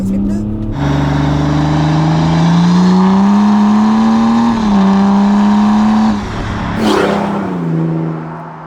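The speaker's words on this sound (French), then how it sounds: "C'est un excellent bruit de diesel." An Alpina D5 BiTurbo diesel engine revs loudly up and down in a steady, rising and falling drone, heard close by while people talk over it.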